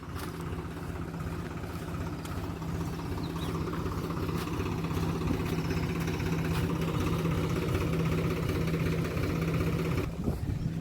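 A tractor engine runs at a steady idle while manure is unloaded in the rain, with a constant low rumble and vibration and no voices.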